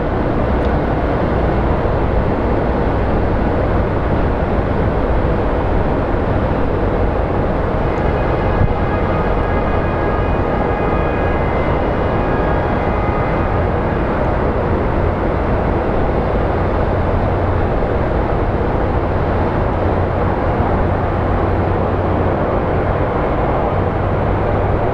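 A fixed-wing airliner lands at Phoenix Sky Harbor International Airport, a loud, continuous broadband jet roar with a faint engine whine, steady throughout and heard from an outdoor spotting position.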